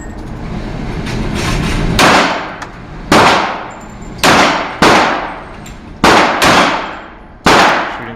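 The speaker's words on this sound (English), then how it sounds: "Shooting footage from the range. It's an indoor range." Pistol shots from a USP handgun at an indoor shooting range, roughly six loud, sharp reports at irregular intervals, each followed by a ringing indoor decay, with shots from other shooters heard faintly and more distant.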